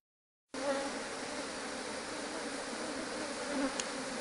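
Honeybees buzz steadily and close up inside a venom collector, a dense continuous hum with no pauses that starts abruptly after a short silence and holds level throughout.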